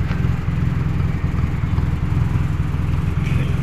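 An owner-type jeep's engine runs at idle with a steady low, throbbing rumble that pulses evenly and stays close and fairly loud, with no voices.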